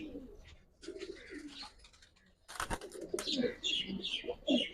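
Racing pigeons coo in a loft, a steady low burbling that swells louder in the second half, with chirpy calls mixed in and people talking nearby.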